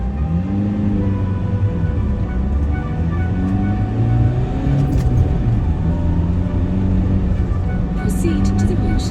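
A camper van drives on a cold road in extreme winter conditions and is brake tested at 30; a steady, loud engine and road rumble runs throughout, with no clear braking event standing out.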